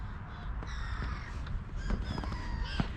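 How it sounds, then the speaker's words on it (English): Gulls call repeatedly from nearby, sharp harsh cries over a faint outdoor background during a snowy winter bird feeding, with no speech. "here come our seagulls"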